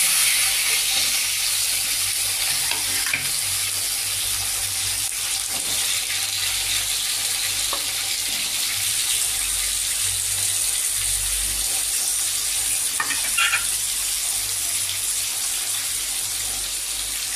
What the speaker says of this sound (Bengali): সবজি ভাজা হয়ে এসছে।